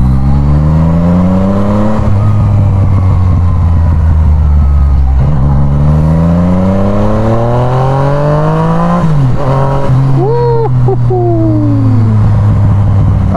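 Yamaha MT-09 motorcycle engine while riding at night in Phuket, loud and close, revving up through rising pitches, easing off, then climbing again with sharp throttle blips near the end and no talk.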